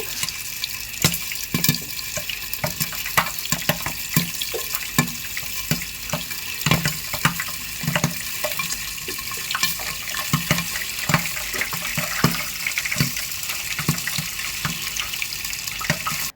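Corn kernels popping into popcorn inside a covered pan on the stove, giving steady close irregular sharp pops and crackles over a constant hiss, with no talking.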